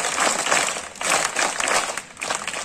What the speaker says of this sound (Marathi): आपल्या अमोल भोयर सरांसाठी टाळ्या वाजवा जोरदार